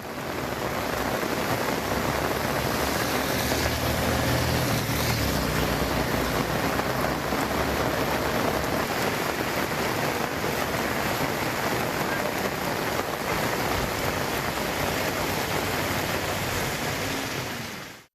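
Heavy northeast monsoon rain pours down steadily in Tamil Nadu, a dense, loud, unbroken hiss of water on surfaces that holds for the whole stretch with no voices.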